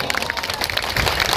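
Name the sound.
audience applause at a political rally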